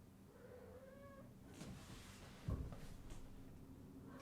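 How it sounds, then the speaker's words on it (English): A cat gives a few soft meows, close by, followed by a brief thump and rustling. "Why is the meowing happening?"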